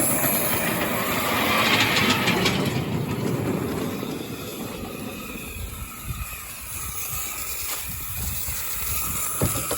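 An NSW Z18 class steam locomotive rolls downhill on rails, wheels clicking and rumbling steadily over the track with a hissing wash that fades partway through, close and loud, no voices.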